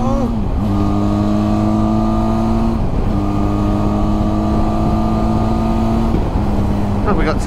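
Full-throttle acceleration from a Benelli TRK 502 X adventure motorcycle, loud and close, with the engine note climbing through three successive gear pulls, each dropping briefly at the shift before rising again.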